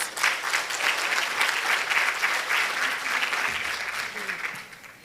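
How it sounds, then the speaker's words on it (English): Conference audience applause, a dense sustained burst of many hands clapping in a hall that holds steady for several seconds, then fades out at the end. "Let's give her a round of applause."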